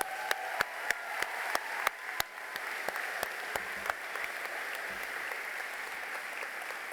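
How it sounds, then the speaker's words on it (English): A graduation audience at Vergennes Union High School gives the class of 2026 a round of applause, steady broad clapping from a crowd with a few sharp nearby claps standing out, lasting several seconds without speech. "Can we all give them a round of applause?"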